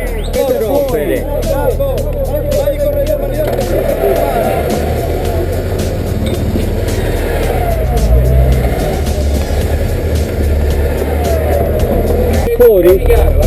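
Small electric model car on an off-road track, its motor whining and buzzing steadily close by, with people chatting in the background throughout.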